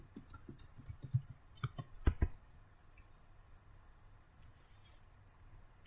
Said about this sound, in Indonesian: kita bisa ketik user 2, kita enter, kita masukkan passwordnya